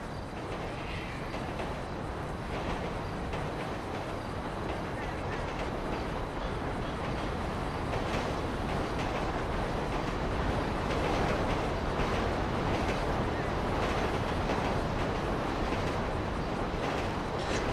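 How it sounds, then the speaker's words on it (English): Trains pass through a desert in GTA Online, a continuous loud rumble with rhythmic clickety-clack of wheels on rails, steady and close for the whole stretch. "There's a lot of trains."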